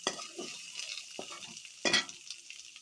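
Spinach and shrimp with chili powder are stirred in a pan: scattered scrapes and clinks of a utensil over a soft frying sizzle, close by, with a sharper clatter near the end.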